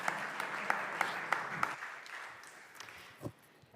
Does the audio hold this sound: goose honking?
no